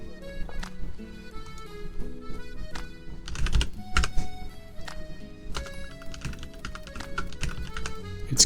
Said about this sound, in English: It's keyboard ASMR time.